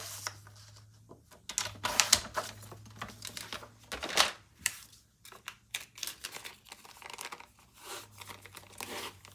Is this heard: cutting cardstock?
yes